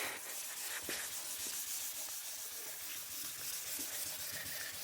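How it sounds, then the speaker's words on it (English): Steady abrasive sanding of clear coat on a Toyota Supra MKIV, a continuous rough rubbing hiss with slight rhythmic strokes, close and fairly loud, no voices. "we'll just keep sanding"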